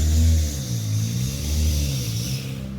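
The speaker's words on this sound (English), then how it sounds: "that guy needs about 3 new belts in his engine." A car engine with worn belts revs, a steady loud mid-pitched roar that swells and dips over a few seconds, heard nearby and alone, with no talk over it.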